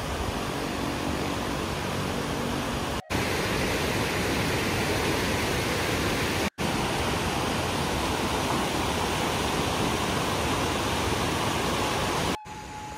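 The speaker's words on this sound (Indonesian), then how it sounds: "Dan ini sungainya sana. Ini cukup deras juga untuk bisa melintas di sini." A fast-flowing river near an abandoned village in Sariak Bayang rushes as a dense, steady roar, loud and close throughout with no talking.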